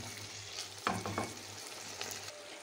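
Liver fries with spices in a pan, giving a soft continuous sizzle. A few scraping stirs of the spoon break through the quiet hiss.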